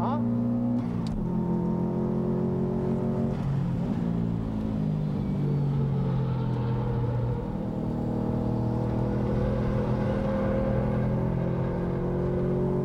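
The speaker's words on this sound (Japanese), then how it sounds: "And the GTR still battling the best it can in 4th place right now." Nissan GT-R race car accelerating hard on a circuit during a Best Motoring battle, a loud continuous engine roar with rising harmonic sweeps through the gears, close and sustained throughout.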